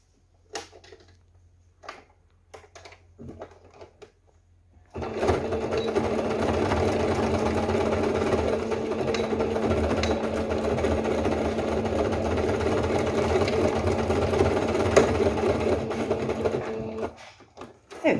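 Sewing machine stitching the handle of a handmade crochet lace bag, running steadily and close for about twelve seconds after a few quieter handling sounds, then stopping.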